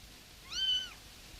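A young cat gives a single clear, drawn-out meow, close and fairly soft against a quiet background.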